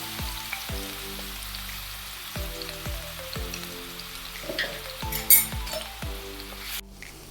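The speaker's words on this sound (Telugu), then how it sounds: "1 కప్పు టమాటాలు, తగినంత ఉప్పు వేసుకొని మనం వేయించుకుందాం." Tomatoes with salt frying in a pan, a steady close sizzle broken by repeated scraping stirs at a regular rhythm, with a brief clatter near the end.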